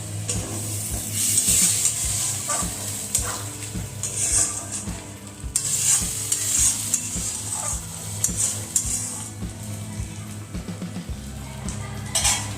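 Egg and spinach curry bubbles in a pan with a soft sizzle while a spoon stirs and scrapes repeatedly, utensil knocks standing out close by.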